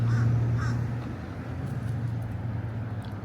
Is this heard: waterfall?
no